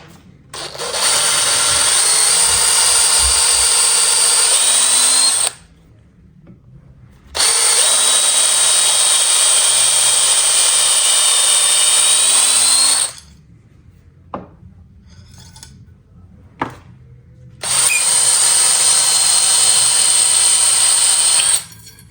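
A lathe with a cork fishing rod grip spinning against an abrasive tool: three loud, sustained high-pitched grinding runs of several seconds each, with quiet pauses and small knocks between them.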